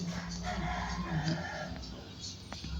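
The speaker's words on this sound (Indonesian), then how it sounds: "Ayam" A rooster crows at close range in a village yard, its call standing out over steady background noise, with faint human voices around it.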